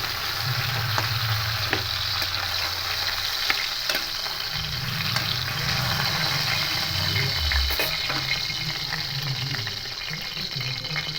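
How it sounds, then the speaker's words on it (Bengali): Pieces of fish, for a doi katla dish, frying lightly in hot oil in a pan, a steady close sizzle with occasional stirring and low rumbles, no talking. "এইভাবে হালকা করে ভেজে নেবো মাছগুলো"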